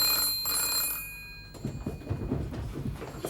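An old-fashioned telephone bell rings in a bright, metallic trill for about a second and a half, then gives way to rustling and handling noises nearby, with no speech.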